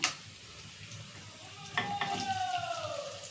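Sliced onions dropped into hot oil with chillies and peanuts for upma, a soft sizzle swelling into steady frying crackle after a light clatter, close and fairly quiet.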